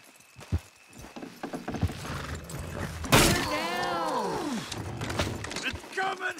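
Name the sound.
horses pulling a load, hooves, in video game Red Dead Redemption 2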